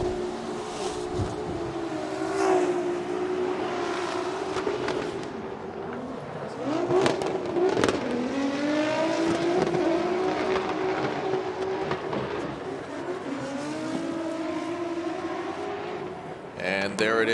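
A Nissan S15 drift car screams through a Formula Drift run in a long, wavering, rising and falling engine wail with sharp bursts, while commentators talk over it.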